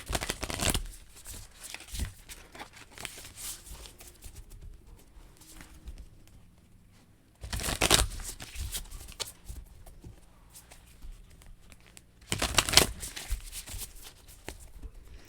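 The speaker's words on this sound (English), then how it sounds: "when I'm shuffling these cards" Double-sided tarot cards being shuffled by hand, a few short papery riffling bursts separated by quiet pauses, soft and close.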